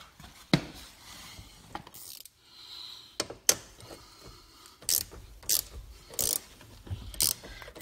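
Ratcheting gear wrench working the hinge bolts on a 2006–2013 Chevy Impala car door: quick bursts of clicking pawl teeth in short separate runs, close and fairly quiet, with scrapes and knocks between them and no talking.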